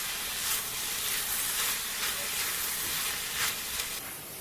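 Ginger, garlic and green chilies sizzle steadily in a hot pan, a continuous close hiss and crackle with occasional brighter spitting bursts, and no voices present.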